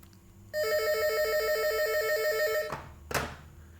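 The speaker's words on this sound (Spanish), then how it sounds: "No le hagan caso al teléfono, por favor." A telephone rings loudly during a math lecture, a steady electronic ringtone pulsing for about two seconds, then cutting off, followed by a couple of short knocks or bumps.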